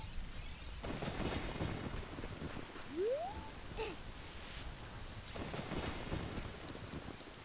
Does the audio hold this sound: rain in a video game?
yes